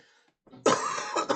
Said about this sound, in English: I'm still coughing stuff up